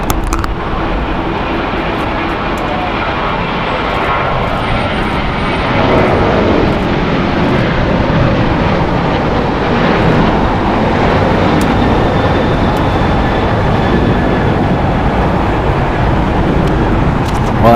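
Alaska Airlines Boeing 737 in Star Wars livery departing LAX, its engine roar loud and close, building in intensity after a few seconds and holding steady as a broad sustained rumble with no one talking.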